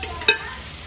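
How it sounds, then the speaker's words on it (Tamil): Onions sauté in a pan, a brief close sizzle with one sharp scrape of a stirring spoon partway through. "ஆனியன் நல்லா வதங்கிடுச்சு ஃப்ரெண்ட்ஸ்."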